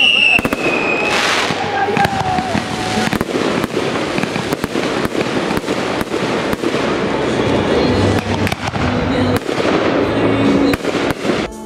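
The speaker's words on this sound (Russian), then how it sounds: "где им представили сюрприз от родителей – красочный салют." Fireworks burst in a dense, rapid series of sharp bangs and crackles over about twelve seconds at an outdoor school graduation celebration, with a high whistle at the start and a voice talking over the display.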